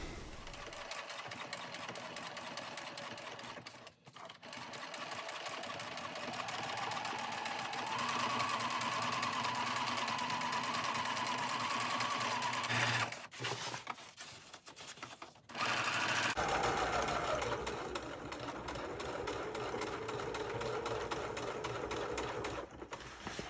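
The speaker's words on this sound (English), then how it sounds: "Now we will put a running stitch on the side of this." A sewing machine runs a stitch along the side of a skirt, whirring steadily and close for long stretches with a couple of brief pauses and a change in motor pitch.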